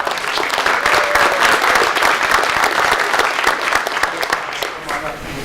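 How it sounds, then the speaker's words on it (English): Audience applause follows a dance conservatory performance, dense and steady throughout with voices mixed in, thinning slightly toward the end. "So, round of applause."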